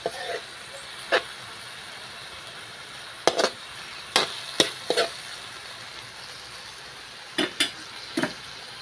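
A spatula knocks and scrapes against a pan while roasted eggplant is stirred, a few sharp, irregular clacks separated by quiet pauses over a low, faint background.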